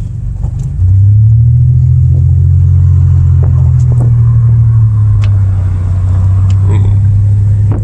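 A car cruises along the road, its engine and tyre rumble holding as a steady, loud low drone after a brief quieter start, with faint clicks and knocks over it.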